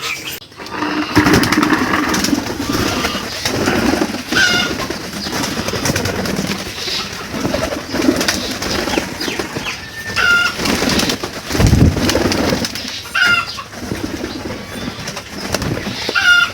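Several pigeons coo repeatedly in low, throaty tones, with rustling and occasional wing flaps nearby.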